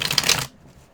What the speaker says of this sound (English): I'm going to do some extra shuffle here